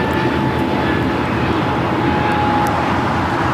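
An airliner takes off from the south-side 25 runways at LAX in a loud, continuous, broadband jet roar that holds steady throughout, with no voices over it.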